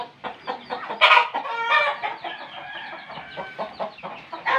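Chickens at a farm with native fowl and ducks cluck in quick overlapping bursts, close and lively, with a strained crow-like call rising early on.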